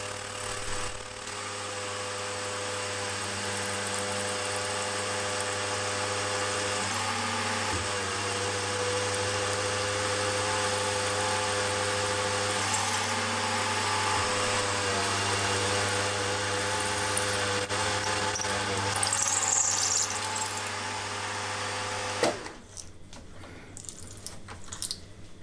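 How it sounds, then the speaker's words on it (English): A Sieg SC4 lathe drills through and taps holes in a chuck backplate, giving a steady, fairly quiet machine hum with faint cutting noise, until the motor stops near the end and a few handling clatters follow. "So I can just continue now to drill right through and tap in the same way I did the other ones."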